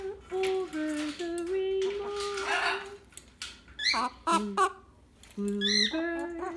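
Loud, harsh squawks from a severe macaw come in short bursts, close by, alternating with a person singing a tune.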